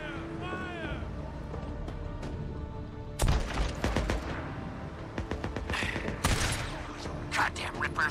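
Gunfire breaks out in a Days Gone fight with Rippers, a cluster of sharp shots and bursts after a quieter stretch of music and ambience, mid-distance and mixed with other combat noise and voices.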